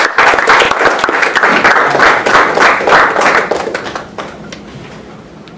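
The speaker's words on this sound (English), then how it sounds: "Another applause to John West." Audience applause after a Sitecore user group talk, steady loud clapping from a room full of people that thins out and fades toward the end.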